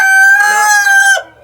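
A single farm rooster crows once, close and loud, in a sustained call that cuts off sharply with a short fade.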